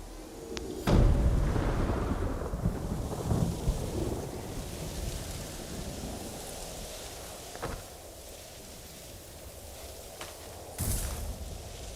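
Thunderstorm with rain in the Ghost of Tsushima video game: a sharp close thunderclap near the start and fainter rumbles and cracks later, over a steady hiss of rainfall, with no talk.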